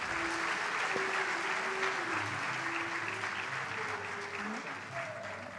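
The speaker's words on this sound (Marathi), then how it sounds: "एकदा सुबोधसाठी जोरदार टाळ्या वाजवूया आपण." A live audience applauds Subodh Bhave at a talk, a sustained dense wash of clapping across the whole span with faint background voices and tones underneath.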